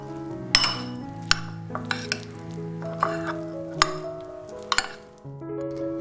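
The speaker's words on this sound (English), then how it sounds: "Scrape all the pureed mixture from the processor bowl and mix with the reserved whole" Pureed peas are scraped from a food processor bowl and stirred into whole peas in a bowl for pea and ham fritters: intermittent spoon clinks and soft scrapes over a steady musical background.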